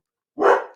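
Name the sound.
dog barking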